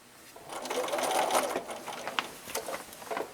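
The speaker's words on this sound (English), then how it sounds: "then pivot 45 degrees and sew into the corner." A sewing machine runs quickly, stitching quilt binding into a corner, a close, brisk whirring rattle that builds and lasts about three seconds.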